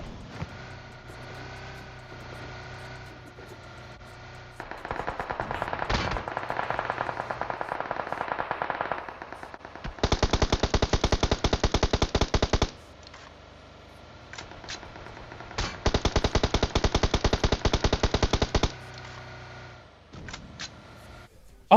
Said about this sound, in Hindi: और चलाते हैं ये लोग गोली दबा के।